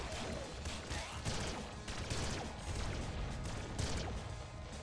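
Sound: laser shotgun firing in Nuclear Throne video game

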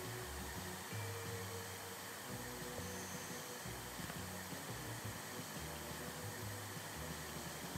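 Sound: vacuum cleaner in video game House Flipper 2

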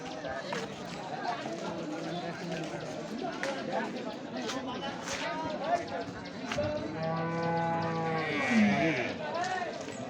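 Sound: cows mooing at a cattle market

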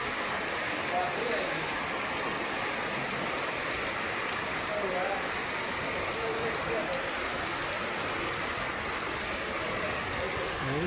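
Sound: rain

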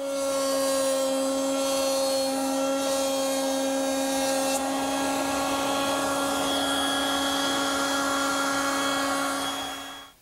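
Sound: woodworking cutter shaping a bead on wood stock

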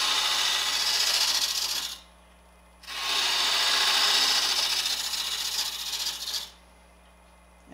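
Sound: carving tool shaving wood of a branch bottle

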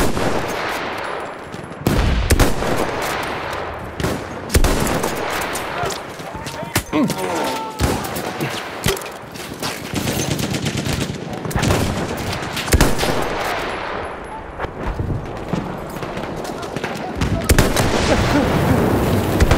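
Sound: machine gun fire in video game Battlefield 1

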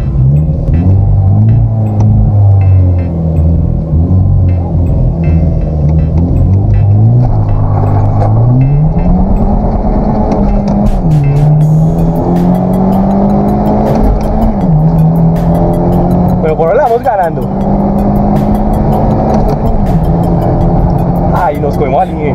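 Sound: Genesis Coupé 2.0T car launching in a drag race

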